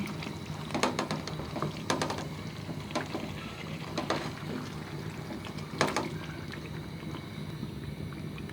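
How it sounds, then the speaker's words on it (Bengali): Beef and potato curry being stirred in a cooking pot, Bangladeshi style, with repeated scraping and clinking strokes at an uneven rhythm over a steady low simmering background. "এখন তিনটা আলু দিয়ে আমি নেড়ে দিচ্ছি"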